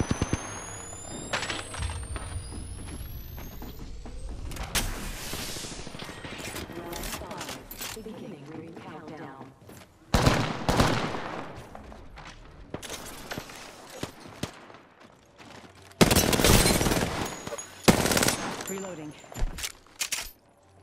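Apex Legends firefight with bursts of automatic gunfire and sharp shots coming in loud clusters, mixed with footsteps, clattering movement and in-game voice callouts between bursts.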